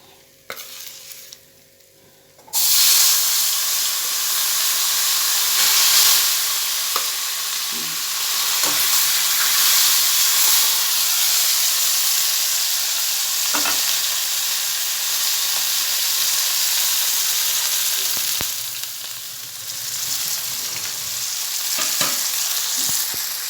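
Onion and garlic fry with spices in a home kitchen pan, a loud, steady hiss of sizzling and stirring that starts abruptly after a brief quiet moment and carries on with occasional clinks.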